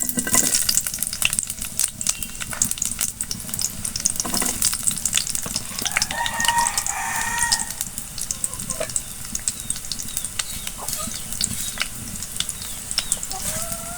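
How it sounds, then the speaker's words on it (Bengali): Chopped onions fry in hot oil in a pan, a dense steady crackling sizzle with occasional stirring clatter, close and continuous with no talking. "তেল গরম হয়ে গেছে, আমি এখন দিয়ে দিচ্ছি পেঁয়াজ।"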